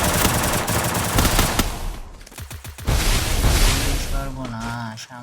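Gunfire in the Free Fire mobile battle game, rapid automatic bursts that stop briefly and then resume, loud and dense, with a player talking over parts of it.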